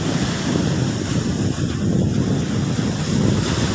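Strong sea waves surge and break at Bang Saen beach, a steady loud roar of surf mixed with gusty wind buffeting the microphone, with no talk.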